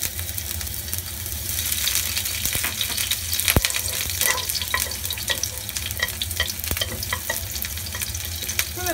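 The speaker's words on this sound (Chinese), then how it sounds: "好，而家煎一煎个鸡先，加少少油落去，啲姜片同蒜片起锅啦" Chicken pieces are pan-frying in a little oil with sliced ginger and garlic, making a steady, close sizzle with intermittent sharp crackles and pops throughout and no voices.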